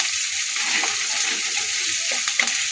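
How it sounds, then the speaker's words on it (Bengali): Onion frying lightly in a pan in a Bengali kitchen, a steady soft sizzle with a few scraping stirs from a spatula, close and continuous, no voices. "হালকা ভাজবো বেশি ভাজবো না দু চারবার আরও নাড়বো"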